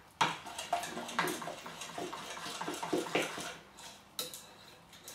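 Ganache being whisked with double cream in a bowl, a quick close clatter of whisk strokes against the bowl, irregular and bright, with a sharper knock near the end and no talk.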